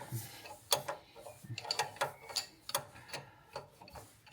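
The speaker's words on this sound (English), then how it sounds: "we've got to get on this 17mm nut here. I think he's a conventional grip. Ooh, it's tight." A wrench works at a tight 17mm nut on a classic Land Rover power steering pump, giving close, quiet ratcheting clicks and metallic scrapes in short irregular bursts.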